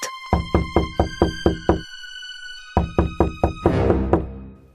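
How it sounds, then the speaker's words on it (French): Knocking on a wooden door in a children's fairy-tale sound effect: two runs of firm, evenly spaced raps, seven then five, close and loud with a brief pause between, ending in a rattling thud. "Le loup frappa à la porte."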